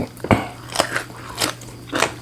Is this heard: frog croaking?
no